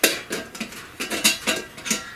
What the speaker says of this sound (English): It's a 5-piece mess kit.